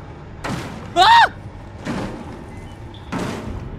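A monster in the Outlast horror video game banging on doors, three heavy muffled thuds spaced about a second apart, with a brief shrill cry in between.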